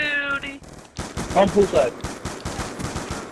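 Rapid gunfire in a shooter video game cracks out in fast repeated bursts, close and loud, with a few distinct shots and short electronic tones at the start.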